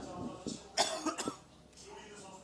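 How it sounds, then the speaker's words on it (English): A man coughs in a sharp burst of two or three quick hacks, with a fainter throat sound just before, heard close over a quiet room background. "Artie, man, you got a bad cough"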